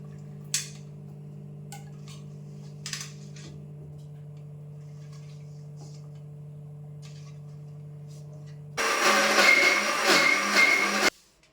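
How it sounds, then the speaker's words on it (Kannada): Mixer grinder whirs loudly as it grinds ginger with olive oil, a dense buzzing burst of about two seconds near the end that stops abruptly, preceded by a quiet steady hum with a few faint clicks. "ಸೊ ಆಲಿವ್ ಆಯಿಲ್ನ ಹಾಕ್ಕೊಂಡು ಇದನ್ನು ಗ್ರೈಂಡ್ ಮಾಡ್ಕೊಳ್ಳೋಣ."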